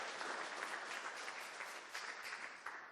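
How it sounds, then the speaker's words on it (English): An audience at a creature design talk applauds as the speaker is welcomed, a short, soft burst of steady clapping from a seated crowd. "Let's have a round of applause for Jeard Marantz"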